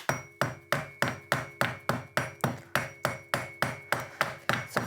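Steady series of about fourteen sharp metallic hammer blows on engine cylinder head parts, evenly spaced and close, each strike ringing briefly before the next, with no talking.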